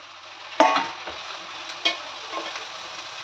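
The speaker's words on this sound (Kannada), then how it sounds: "ಈಗ ನಾವು ಟಮಾಟೆ ಹಣ್ಣು ಹಾಕೋಣ ಇದರಲ್ಲಿ" Tomatoes hit hot oil in a pan of egg gravy, a loud sizzling burst followed by steady frying hiss with a couple of stirring scrapes, close by and without talk.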